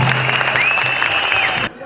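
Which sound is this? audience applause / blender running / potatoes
audience applause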